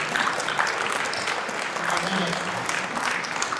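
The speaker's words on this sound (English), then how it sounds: "that's worth another round of applause" An audience at an ocean-and-atmosphere open-house presentation applauds in a steady, close wash of clapping that lasts the whole time, with someone speaking briefly over it.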